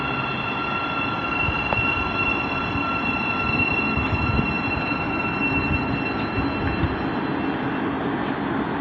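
Class 700 train 700-020 rolls through Hendon on the Midland Main Line, a steady close rumble of wheels with a faint high squeal running throughout, no talk.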